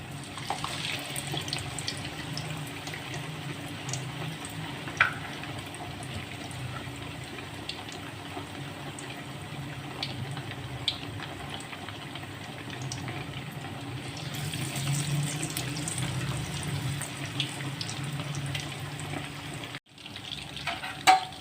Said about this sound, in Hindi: मीडियम आंच पे बहुत ही अच्छे से आप ये देख रहे होंगे कि चिकन जो है वो फ्राई हो रहा है